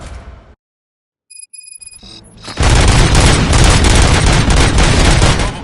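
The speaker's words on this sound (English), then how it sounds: "Gunshots? What's going on?" Gunfire in the Hitman video game: after a brief silence and some electronic beeps, a loud, dense burst of rapid automatic shots with booming impacts erupts and continues without letup.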